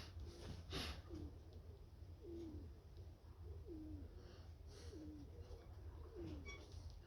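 Baku pigeons coo in a series of soft, rolling calls, about one every second, against a steady low background hum.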